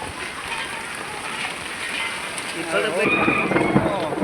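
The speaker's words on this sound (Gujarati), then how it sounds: "જો વરસાદ આવી ગયો" Steady rain pours down with a dense hiss, growing heavier toward the end, as a voice speaks briefly over it.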